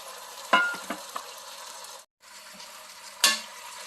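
Pork meat for dinuguan goes into a hot pot, giving a few sharp clattering impacts and stirring scrapes over a low, quiet sizzle, with a brief dropout midway and another sharp knock near the end.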